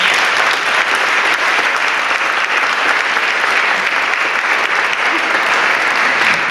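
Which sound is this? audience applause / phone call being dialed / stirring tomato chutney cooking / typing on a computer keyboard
audience applause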